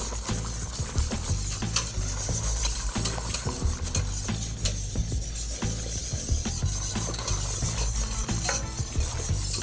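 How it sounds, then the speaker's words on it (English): Hot stock whisked vigorously into a roux for turkey gravy, a steady rapid scraping and clinking of a whisk against the pot with a faint sizzle, continuous and close, with no talking. "vigorously whisk the hot stock into the roux itself"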